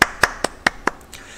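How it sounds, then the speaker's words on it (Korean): Students in a sixth-grade social studies class clap in unison in about six sharp, evenly spaced claps that are close and crisp, then fade out. "자, 박수 한번 칠게요."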